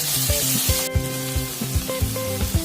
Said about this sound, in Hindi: प्याज को तब तक हम फ्राई करेंगे जब तक ये हल्का सा पिंक कलर का ना हो जाए।